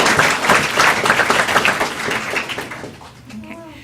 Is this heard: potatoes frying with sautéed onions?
no